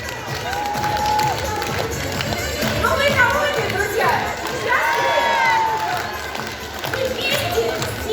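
Enthusiastic applause and cheering for a group of children from Stadovsk at a Russian school event, a steady roar of clapping with shouts and whoops rising and falling throughout, with voices mixed in.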